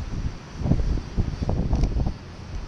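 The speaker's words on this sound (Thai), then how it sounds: "ลมก็แรง" Strong seaside wind buffets the microphone in continuous low, rumbling gusts, loud and close, with no voices.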